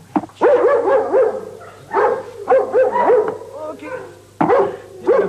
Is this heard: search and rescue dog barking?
yes